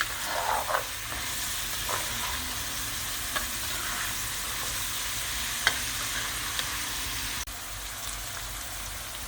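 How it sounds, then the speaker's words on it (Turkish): Chopped onions and garlic sauté in a pan, giving off a steady, close sizzle and crackle with occasional stirring taps throughout. "Soğan ve sarımsaklar tekrar soğanlar yumuşayana kadar kavruluyor."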